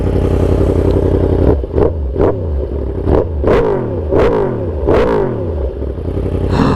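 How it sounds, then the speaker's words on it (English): A Yamaha R1 sport bike with a full titanium Austin Racing exhaust revs hard, about six sharp throttle blips rising and falling over a loud, steady idle, close by with no talking. "The full titanium Austin Racing exhaust on this bike sounds so"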